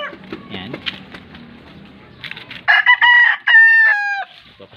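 Backyard farm chickens on a hot day, with soft clucking and scratching noises followed by two loud, close rooster crows in a row.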